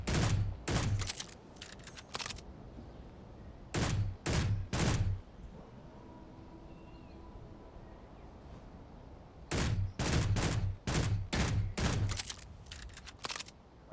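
S20A and S10 rifles in Space Engineers fire at target dummies in three bursts of sharp, rapid shots, with quiet game ambience between the volleys and no voice.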